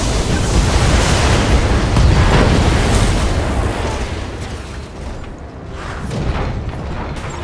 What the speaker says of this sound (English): All weapons locked on and firing.